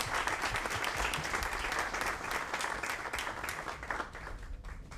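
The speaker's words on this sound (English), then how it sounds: "An applause for him" Audience members at a radiology lecture applaud the speaker, with continuous, full-room clapping that stays strong before thinning out in the last second.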